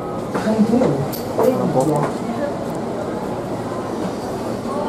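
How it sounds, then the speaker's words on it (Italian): Rome metro train pulling out of Rebibbia station, a steady rumbling and rolling roar that builds as it moves off, with someone talking over the start. "Ora un po' la metropolitana che parte a Rebibbia, guarda che roba."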